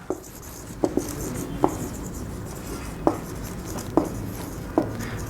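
A pen writing sentences by hand on paper during an English writing lesson produces quiet, sparse tapping strokes, single and paired ticks spaced about a second apart over soft background hiss, with no voices.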